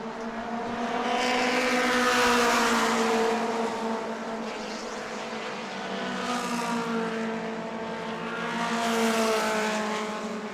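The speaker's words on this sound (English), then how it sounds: "Good little race here down the front straightaway between these Mod Minis." Mod Mini race cars scream past down the front straightaway at New Smyrna, engine notes rising and falling in waves as several cars pass in succession, loud and sustained, no talking.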